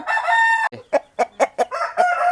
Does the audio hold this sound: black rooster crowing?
yes